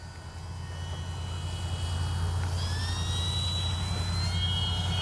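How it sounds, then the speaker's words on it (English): Kavan Pilatus PC-6 Porter RC plane with landing flaps and soft Durafly Tundra wheels making a touch and go at evening, a steady electric motor whine with rising tonal sweeps over a constant low hum, fairly distant and even throughout. "Nice little touch and go."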